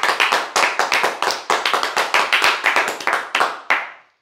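A church congregation applauding after an exhortation, with sharp, fairly close claps in irregular bursts that stop abruptly near the end.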